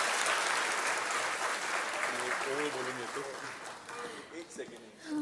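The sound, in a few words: loud applause from the audience after a speech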